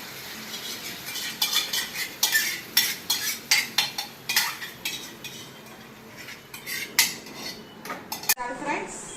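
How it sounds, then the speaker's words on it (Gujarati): Dal goes into a pan of spiced Gujarati dal fry with Kitchen King masala, followed by a steady run of metal spoon scrapes and clinks against the pan, close and distinct, with faint sizzling underneath and no talking. "હવે આપણે એમાં દાળ એડ કરી દઈશું।"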